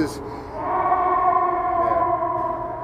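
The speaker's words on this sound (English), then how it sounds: "it sounds like there's a siren above us" A wailing siren with a slowly shifting pitch sounds from a distance above a Chicago street, steady over a few seconds with faint background noise.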